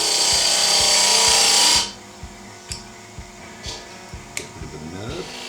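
A wooden medieval chalice spins on a wood lathe while being hollowed, first as a loud, steady high-pitched cutting whine, then dropping to a quieter rhythmic thumping with a few scraping ticks.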